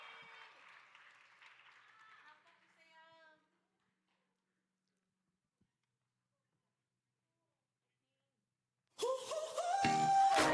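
Audience applause at a special performance during a Wednesday chapel service, a short burst of clapping at the end after a cheerful voice and a long quiet gap.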